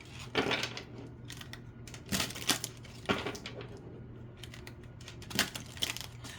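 Cards are shuffled in a quiet room, several bursts of crisp riffling and flicking separated by brief pauses, close and soft, with no talk.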